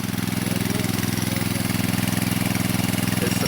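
A generator engine runs steadily under load beside a blower in an industrial automation setup, giving a loud, continuous, even drone with a rapid rhythmic pulse throughout and no speech.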